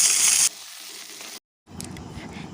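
Masala fries and gets stirred in a pan, starting with a loud burst of sizzling, then a softer frying hiss, a short silence, and a return of crackling with stirring scrapes.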